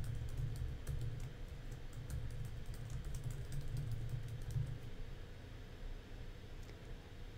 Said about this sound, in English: as I typed my email address